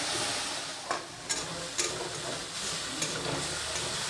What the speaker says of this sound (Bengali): রসুন আর পেঁয়াজ যেটা কুচিয়ে দিয়েছি সেটাকে খুব কড়া করে ভাজা যাবে না,